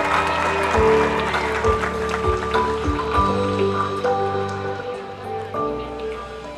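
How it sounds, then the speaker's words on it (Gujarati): Applause from an audience at an inauguration ceremony greets a guest, a dense patter of clapping that stays steady, then thins slightly toward the end. "આપણે સૌ તાળીઓથી એમને વધાવીએ"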